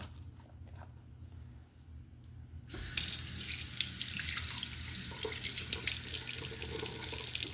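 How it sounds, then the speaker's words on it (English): Water gushes steadily from a tap into a pot, a loud continuous rush that starts abruptly after a quieter stretch with only low background hum. "now I'm going to add my water to the pot."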